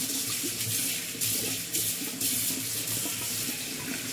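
A Gillette Styler shaver head is rinsed under a running tap. The water gushes in a loud, continuous rush into the sink, with small shifts in splash as the head is moved through the stream.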